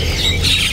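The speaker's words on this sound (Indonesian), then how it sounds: "di sini ada burung pentet ya. Ini pentet Jawa Timur." An East Javan long-tailed shrike at a bird market gives a loud, harsh, close squawk lasting under a second.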